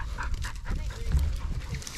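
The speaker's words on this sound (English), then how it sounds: "That's a dog right there" A hunting dog pants and whimpers close by in short rapid breaths during a Texas quail hunt, with rustling and faint human voices in the background.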